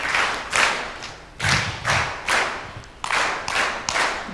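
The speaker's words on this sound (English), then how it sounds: "Is that how Evans taught us to clap?" Conference audience at an East African civil society summit clapping in a rhythmic, unified pattern, several sharp bursts of collective claps in a steady beat, moderately loud in a large hall.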